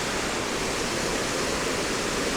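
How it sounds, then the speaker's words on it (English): Water pouring down rocks at a waterfall, a dense constant hiss and rush of falling water, close and loud, with no voices. "But we do have beautiful rocks and water coming down the rocks."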